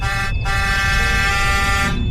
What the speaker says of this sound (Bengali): খুব জোরে বাসের হর্ন।